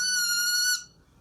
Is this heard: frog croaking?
no